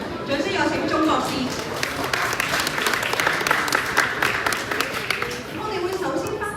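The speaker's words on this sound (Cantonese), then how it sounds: "掌聲有請鍾博士" Sustained audience applause at an award ceremony for a space app creation competition, steady dense clapping filling the room throughout without a break.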